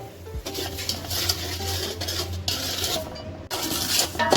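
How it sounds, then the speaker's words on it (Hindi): Semolina being roasted dry in a pan for sweet suji halwa. A spoon scrapes and stirs continuously with gritty rasping and metallic clinks, close and fairly loud, with a brief pause partway. "सबसे पहले हम सूजी डालेंगे इसमें और इसको भूनेंगे अच्छे तरीके से।"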